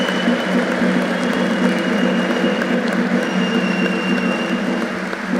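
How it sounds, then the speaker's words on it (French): Audience applause fills a hall during the opening ceremony of the Vovinam World Cup, a steady dense wash of clapping that runs throughout without pause. "A round of applause,"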